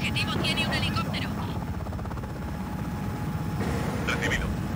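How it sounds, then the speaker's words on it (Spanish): An enemy helicopter in the Just Cause 4 video game thrums with a steady rotor drone, while clipped radio-style voices speak over it at the start and again near the end. "El enemigo va en un helicóptero."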